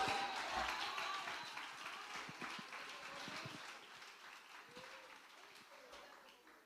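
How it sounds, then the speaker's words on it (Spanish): Congregation applause during a church sermon: dense, steady clapping that is loudest at the start and slowly fades, with voices talking over it. "Dale un aplauso"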